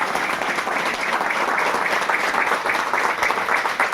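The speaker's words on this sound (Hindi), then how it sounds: "हम सब मैडम के सम्मान में एक बार खड़े होकर तालियां बजाएं" Steady applause from a standing audience at a retirement party at Doordarshan Kendra Bhopal fills the whole stretch, dense and continuous at an even, fairly loud level with no talking.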